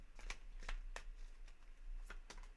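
Tarot cards are shuffled close by in a quiet room, several quick riffling flicks spaced unevenly over a few seconds.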